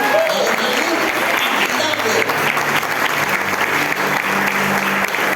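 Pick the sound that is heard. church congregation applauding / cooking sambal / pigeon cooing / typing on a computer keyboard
church congregation applauding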